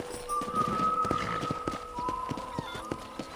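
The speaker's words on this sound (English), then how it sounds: "let's see if you can still ride a horse" Horse hooves in the video game Red Dead Redemption, a quick rhythmic clip-clop of a ridden horse heard up close over a steady background of ambient tones.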